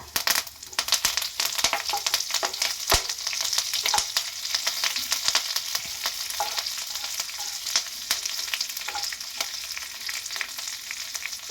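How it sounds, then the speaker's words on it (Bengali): Black mustard seeds, urad dal and curry leaves spluttering in hot oil for tempering, a loud close crackle of rapid sharp pops over a constant sizzle, with occasional stirring scrapes. "কালো সর্ষে একটা চামচ দিয়ে দিচ্ছি কলাইয়ের ডাল ফোড়নে দিয়ে দিচ্ছি কারি পাতা"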